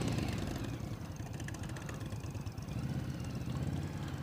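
2018 Indian Scout Bobber motorcycle underway, its engine giving a steady low, rumbling drone with wind noise and no speech over it.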